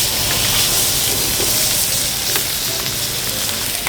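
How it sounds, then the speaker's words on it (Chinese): A thin beef steak sears in a hot pan, giving a loud, continuous, dense sizzle that holds steady, with faint pops and no talking. "它的厚薄度比较薄，所以我们要把它煎到非常上色"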